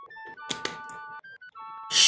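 A single soft thud of a character landing in the Roblox game, set among short electronic game tones and followed by a brighter burst of noise at the end, with no voices.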